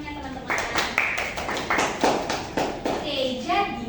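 Classmates clap for a student during a microteaching lesson in a classroom, a lively round of hand claps with sharp repeated taps rising and falling for several seconds under a background voice.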